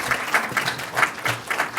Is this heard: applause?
yes